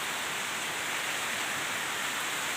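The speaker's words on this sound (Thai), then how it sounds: "ฝนตก ฝนตก" Early morning rain falls steadily under a gloomy, overcast sky, a dense, even wash of patter that holds constant and fairly loud throughout, with no voices heard.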